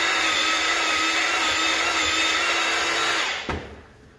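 Drill fitted with a level 5 paddle churning drywall mud in a bucket, a loud, steady motor whine that runs continuously, then cuts off near the end with a short clunk.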